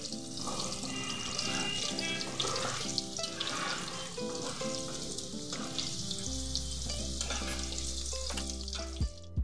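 Potatoes fry in a pan with a continuous sizzle and occasional stirring, and tonal background music plays underneath.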